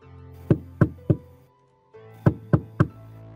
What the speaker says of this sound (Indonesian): mereka pun kemudian mengetuk pintu rumah tersebut